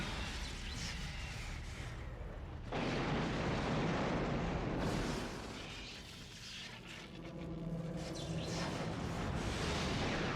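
Missile explosions in Lunar: Silver Star Harmony's final battle form a continuous roar of booming blasts and rumbling fire, loud and sustained with swelling surges and no voices.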